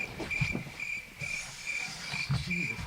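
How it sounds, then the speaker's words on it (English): Crickets used as a sound effect for an awkward silence on a podcast: a steady high chirping trill that pulses in even bursts, moderately loud, with faint low background noise beneath. "I need the crickets."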